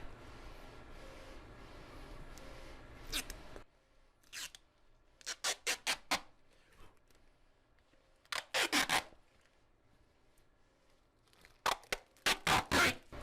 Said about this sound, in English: I've got a little bit of white ink. It'll pop right off of here. Scrape that right off.